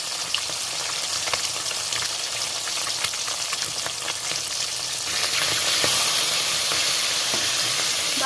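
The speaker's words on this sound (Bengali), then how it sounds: "বাদ বাকি মাছগুলো দিয়ে দিলাম তেলের মধ্যে।" Fish sizzles in oil in a kadai, a steady, close crackle that swells louder about two-thirds through as the remaining pieces are added, with bright popping spatter and no speech.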